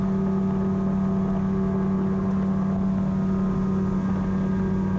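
The engine of an ICON A5 amphibious aircraft running on the water gives a loud, steady droning hum with a constant pitch and no breaks. Nobody talks over it.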